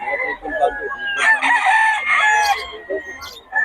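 A gray gamecock crows loudly and close by, with a drawn-out cock-a-doodle-doo in the middle between shorter clucks and calls. Nothing else is heard.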